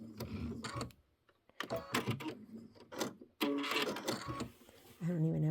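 Sewing machine stitching a pieced quilt block: short bursts of rapid mechanical clattering separated by pauses, close by, with someone talking between and over the stitching runs.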